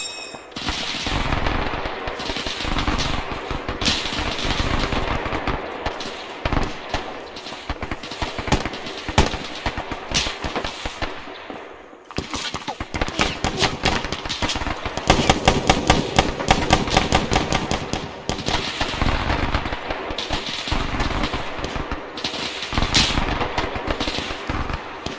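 Enemy machine gun fire in a military shooter game: long, loud, rapid bursts of automatic gunfire running almost continuously, with a brief lull midway before another heavy stretch.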